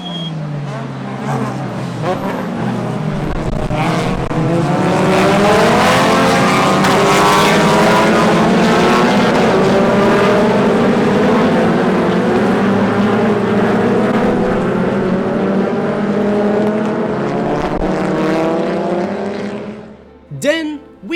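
Classic cars racing at the Algarve Classic Festival 2024, a loud sustained engine roar rising and falling as cars pass, with a brief sharper burst near the end.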